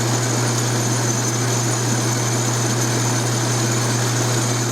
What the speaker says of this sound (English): Highest speed rate the lathe has got. I'm running at 1300 RPM.